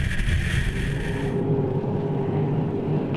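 The Team Australia 2 offshore superboat races at speed, heard from on board as a loud, steady engine roar mixed with rushing water and wind buffeting the microphone.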